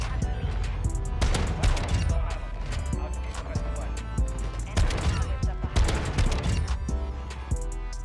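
Shotgun blasts from the Modern Warfare video game fire in several loud, uneven volleys mixed with other gunfire and in-game clatter across the whole stretch.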